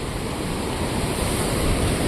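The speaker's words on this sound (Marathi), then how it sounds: "जबरदस्त पाणी चालू आहे रे बाबा" Floodwater from a cloudburst rushes and roars loudly and continuously, a dense churning wash with a wind-like hiss and no voices.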